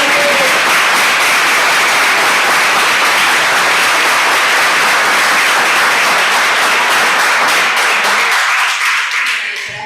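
Dense, loud applause from a large audience at a university round-table talk continues steadily, then tapers off near the end.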